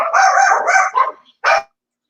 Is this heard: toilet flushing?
no